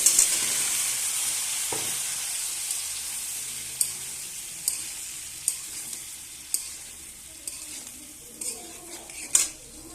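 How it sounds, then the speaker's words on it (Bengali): Pointed gourd and potatoes frying in a pan give a steady, broad hiss. Occasional clicks of stirring utensils sound against the pan, fairly close and with no talk. "এবার আমি এখানে পটল আর আলু দিয়ে দেবো, ভেজে নেব"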